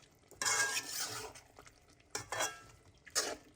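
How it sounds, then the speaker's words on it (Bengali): A pot of village-style layer chicken curry with raw potatoes is stirred in three bursts of scraping and clattering, with a low sizzle underneath and short pauses between strokes. "আবার একটু নেড়ে চেড়ে নিচ্ছি।"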